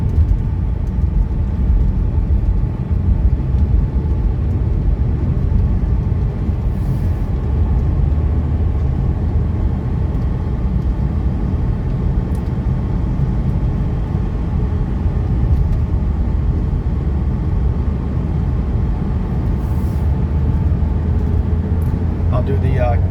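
A Mercedes 300CD coupe drives on the road, its engine and road noise forming a steady low rumble heard from inside the car, with talking over it throughout.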